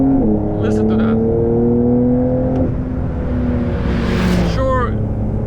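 Turbocharged engine of a 2021 Porsche 911 Carrera GTS (992) on the PEC Franciacorta track, droning steadily with rising and falling revs, loud and close throughout.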